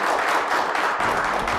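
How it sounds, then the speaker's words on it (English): An audience in a school setting applauds in a dense, even wash of clapping, heard briefly and at moderate volume. "Can we give those people a round of applause?"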